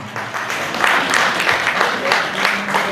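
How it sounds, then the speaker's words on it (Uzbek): An audience at a stage event applauds together, a steady wash of clapping that swells and holds for a few seconds at close, fairly loud level. "bitta qarsak chalib qo'ysak"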